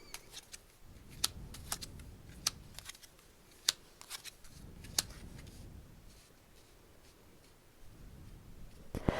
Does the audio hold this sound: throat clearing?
no